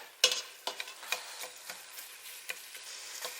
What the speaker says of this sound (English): I'm just sweating the onion garlic with bay leaf.